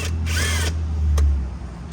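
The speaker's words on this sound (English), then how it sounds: "12 millimeter on a impact gets that right out" An impact wrench spins a tight 12 mm bolt out of the passenger airbag mount during dashboard removal on a 2003-2006 Scion xB, giving a short loud burst followed by a quick second blip over a low hum.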